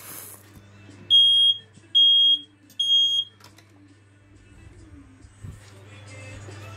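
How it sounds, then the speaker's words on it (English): Three loud, piercing beeps come from a smoke alarm being tested indoors, each about half a second long, followed by quieter handling noise over a constant low hum. "we do have some smoke alarms to test, like this one and this one."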